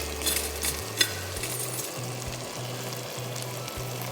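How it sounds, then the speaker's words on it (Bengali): Spices for a beef curry being sautéed in a pan, a steady close sizzle and fry with faint stirring scrapes and one small knock, no voices. "এখন মশলাটা ভালো করে কষিয়ে নিতে হবে।"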